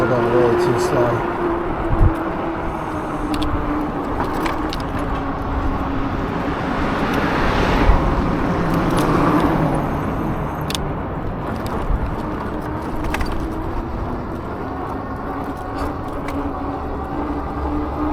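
Cars crawl past in slow traffic on a cold day, a continuous roadway hum with a vehicle swelling louder as it passes close, while a person talks over it.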